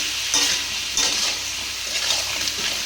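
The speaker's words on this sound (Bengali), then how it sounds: "এবার এটাকে ভালো করে ভেজে নিতে হবে" Potatoes and ridge gourd with turmeric fry in a pan, a steady soft sizzle broken by a few scraping stirs, close and alone without voices.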